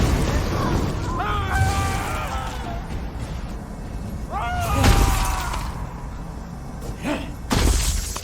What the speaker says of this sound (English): Try smashing these glass balls.